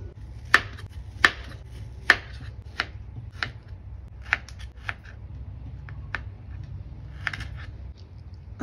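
Knife chopping kiwi fruit on a board, a series of sharp, separate cuts at an irregular pace, close up over a low steady hum, with no talking.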